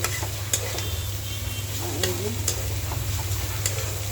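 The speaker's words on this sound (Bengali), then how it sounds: "তো এদিকে যে আমার কপি আলু ভাজাটা বসায় দিছি," Cauliflower and potato frying in a pan, giving a steady, close sizzle with light scattered ticks and scraping clicks throughout, no one talking.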